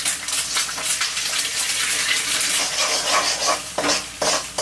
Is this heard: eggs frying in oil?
yes